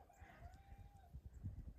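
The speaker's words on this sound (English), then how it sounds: "there went the rooster" A rooster crows once on a country property, a faint, distant call stretching over about a second, over low rumbling background noise.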